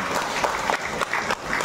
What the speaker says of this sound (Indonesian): Kita beri tepukan kepada beliau.